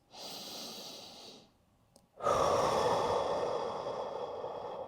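Slow, deep breathing during a relaxation workout: a long, close inhale, a short pause, then a fuller, louder exhale trailing off, quiet and without talk.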